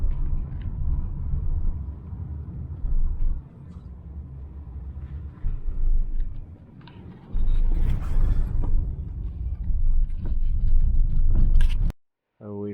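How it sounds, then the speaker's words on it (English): A minivan rolls past on a road near Rorke's Drift, South Africa, its low engine rumble and tyre noise swelling and fading over several seconds beneath people talking, before a sudden cut to near silence. "There's a minivan coming."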